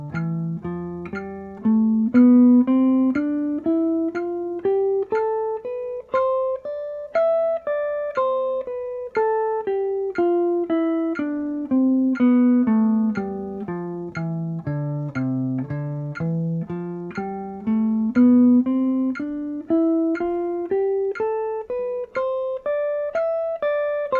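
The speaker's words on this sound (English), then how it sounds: "I have my metronome set to 60 beats per minute" A metronome ticks steadily at 60 beats per minute beneath an acoustic guitar running up and down a major scale pattern in even eighth notes, with no talking.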